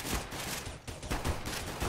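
Rapid bursts of Glock pistol fire in Counter-Strike: Global Offensive deathmatch, several sharp shots clustered across two seconds at moderate level with no talk.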